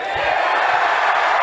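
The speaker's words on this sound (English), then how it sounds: "Y'all keep booing. I'ma keep doing." A press conference crowd at the Tyson versus Paul event boos and roars, a loud, continuous wall of voices that fills the whole brief moment.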